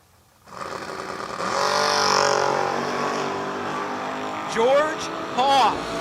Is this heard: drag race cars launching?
yes